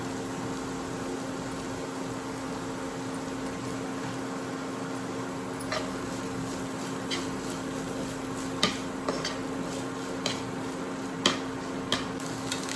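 Ginger garlic paste fries in a pan with a steady, low sizzle, joined later by a few sharp clicks and scrapes of stirring.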